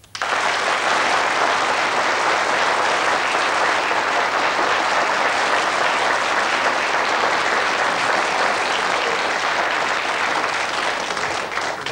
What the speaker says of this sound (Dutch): mensen waren aan het klappen